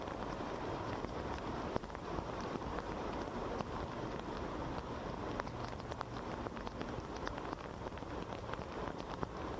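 Heavy monsoon rain pours down in Mumbai, a dense, steady hiss of drops drumming on surfaces that runs unbroken and loud throughout, with no voices.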